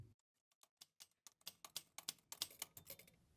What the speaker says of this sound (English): we give you the sound of the Big Book manuscript being typed on this early 20th century manual typewriter